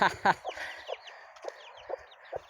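Soft, repeated clucking from a hen with faint peeping of chicks, several short calls spaced irregularly at a moderate distance with light background noise.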